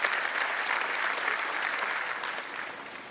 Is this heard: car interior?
no